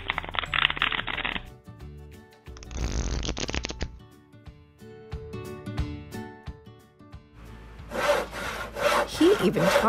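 A saw rasps through wood in a magic-trick sound effect, with several separate bursts of scraping strokes, some short and some longer and louder, set over soft musical tones with quiet pauses between.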